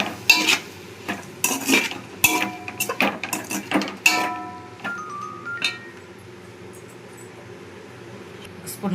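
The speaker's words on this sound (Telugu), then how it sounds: "ఒకసారి కలుపుకుందాం." A spoon stirs vegetable biryani with coriander leaves in a metal pot, a quick run of clinking, scraping strokes close by that slows and fades into quiet near the end.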